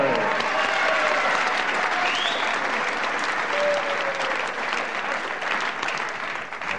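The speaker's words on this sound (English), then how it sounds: "Everybody clapping here." A crowd at a televised professional wrestling bout between Steve Grey and Clive Myers applauds in a loud, sustained wash of clapping that fades only slightly toward the end.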